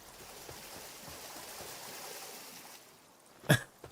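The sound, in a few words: water sound in a video game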